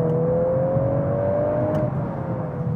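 A Volkswagen Golf R accelerating in second gear, its engine note climbing smoothly and steadily from inside the cabin, then easing off near the end.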